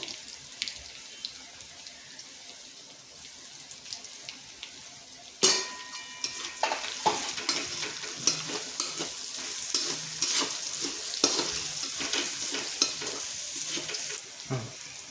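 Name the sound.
finely chopped cabbage frying in a pan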